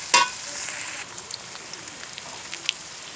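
Whole spices with black and white cardamom frying in oil in a pan, a faint steady crackling sizzle with a few sharp pops, close and quiet.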